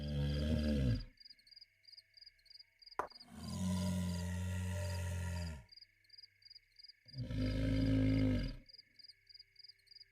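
Deep rumbling snore-like groans from sleeping giants in the video game Black Geyser: Couriers of Darkness, three long loud bursts separated by quieter rhythmic chirping and pulsing ambience, with no talk.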